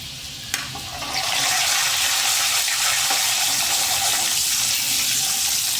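Chopped garlic dropped into hot oil in a pan for fenugreek greens bhaji, a sudden loud steady sizzle that starts after a small clink and continues evenly and close.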